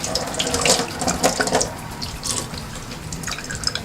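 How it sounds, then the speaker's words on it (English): Tap water runs into a sink during handwashing, a close, steady splashing rush with small uneven spatters throughout. "Wash my hands."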